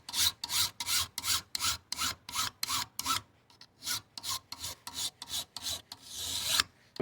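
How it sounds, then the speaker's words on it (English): A file rasps along a scraper edge to raise a burr, in about a dozen steady, close strokes with short pauses between them. A brief gap falls partway through, and a longer scraping rub comes near the end. "And then you're going to come along and you're going to file. And what you're doing is putting a new burr on it."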